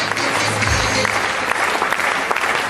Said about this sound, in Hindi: एक बार इनके लिए जोरदार तालियां प्लीज